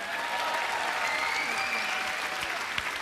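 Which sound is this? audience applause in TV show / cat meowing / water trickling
audience applause in TV show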